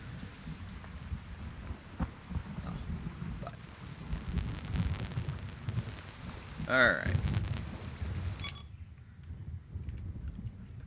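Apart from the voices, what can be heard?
rolling thunder and rain in a video game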